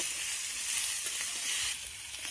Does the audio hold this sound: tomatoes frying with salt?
yes